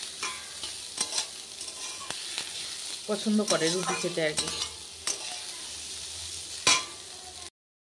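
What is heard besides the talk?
snake gourd frying in a wok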